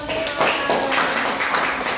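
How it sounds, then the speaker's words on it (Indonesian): Classroom applause for a student, a steady spread of many hands clapping at moderate loudness with voices talking over the clapping. "Beri tepuk tangan"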